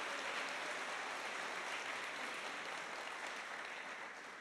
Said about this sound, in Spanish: Ángel, deme un aplauso al Señor por la vida de Ángel.